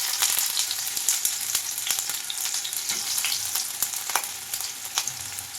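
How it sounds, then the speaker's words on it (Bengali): Onion dropped into hot mustard oil in a wok, a loud, steady sizzle and crackle of frying with scattered pops and stirring scrapes, close up and continuous. "দেখে নাও, এখানে তেলটা ভালো করে গরম হয়ে গেছে, আমি পেঁয়াজ দিয়ে দিলাম।"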